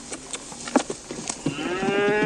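A cow on a farm gives a single drawn-out moo, heard clearly and fairly close, starting low and rising into a sustained tonal call.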